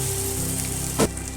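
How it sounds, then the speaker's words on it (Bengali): Fried pumpkin pieces go into a ginger spice paste in a hot pan and get stirred, giving a steady, close frying hiss with one brief louder stir burst before the sizzle settles again. "মশলাটা হয়ে এসেছে, এবার আমি ভেজে রাখা কুমড়োগুলো দিয়ে দেব। নাড়াচাড়া করে নেব ভালো করে।"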